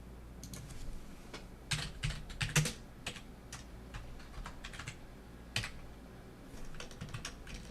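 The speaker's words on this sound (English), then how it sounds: "Can I not type today?" Scattered clicks and taps on a computer keyboard, faint against a low room hum, with irregular pauses and a few louder clusters.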